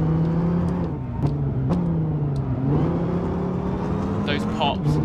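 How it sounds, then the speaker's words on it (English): Car engine in the racing game Gran Turismo 5 droning and shifting pitch through gear changes, with a few sharp exhaust pops on downshifts, under someone talking. "Those pops. I love downshifting in this game."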